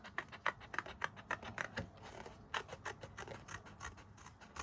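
Scissors cut out a paper flower for a greeting card, with a rapid series of close, crisp snips and paper rustles in an uneven rhythm, quiet and with no one talking.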